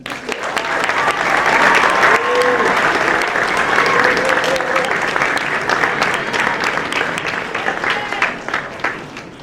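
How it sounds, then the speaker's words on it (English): A crowd at a school spring varsity sports awards ceremony applauds the retiring girls' varsity tennis coach, a loud, sustained wash of clapping with scattered voices and cheers throughout. "can we give him a round of applause?"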